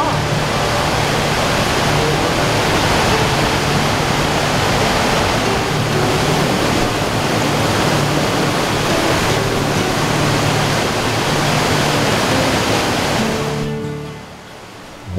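Creek water rushes steadily over rocks at a trail crossing near Denton Creek Falls, a loud, continuous broadband wash that fills the scene and then suddenly drops away near the end.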